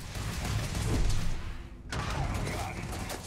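A grenade blast in the Starfield video game gives a loud broadband burst near the 1.9-second mark, with noisy combat sound and a person talking before it.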